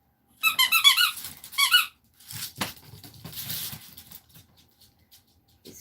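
A squeaky dog toy squeaks in a quick burst of rapid squeaks, then a pause, then another short run. After that comes softer rustling and scuffling as an energetic dog plays nearby, with no speech.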